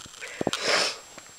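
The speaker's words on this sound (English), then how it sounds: "That's kind of why I keep sniffling." A person with a stuffed-up nose sniffles a few short times close by, the quick nasal breaths followed by a longer breathy rush of air, faint and brief.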